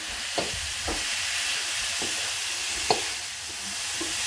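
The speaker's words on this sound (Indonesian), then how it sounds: "Kemudian kita aduk hingga rata." A martabak filling with spring onion is stirred in a pan, with a few sharp spatula scrapes and taps over a steady, close frying sizzle and hiss.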